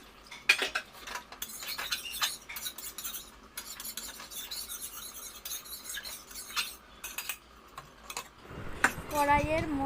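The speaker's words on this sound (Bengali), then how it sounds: "দিয়ে একটু ফেটে নেব। চারিদিকে চাড়িয়ে দেবো।" Spices are stirred into khichuri in a pot, heard as a run of close metallic spoon clinks and scrapes against the vessel, with a brief voice entering near the end.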